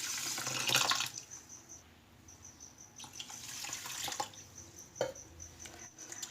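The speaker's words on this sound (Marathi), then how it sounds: "आता यामध्ये आपण पाणी घालूया." Water poured from a tap onto rice in a kitchen vessel to wash it, a close splashing gush that surges at the start and again in bursts, with small clinks between pours.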